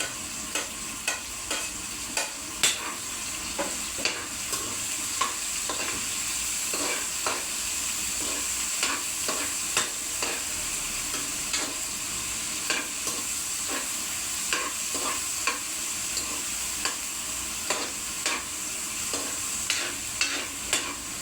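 Cabbage, sayote, Baguio beans and chicken meat stir-fried in a pan give a steady close sizzle, with a spatula scraping and clacking against the metal at regular intervals throughout.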